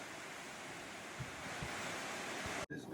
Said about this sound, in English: This is called Horsetail Falls along the tour